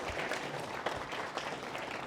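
Group applause at a ski resort staff orientation, a steady, fairly faint crowd clapping throughout with no voices.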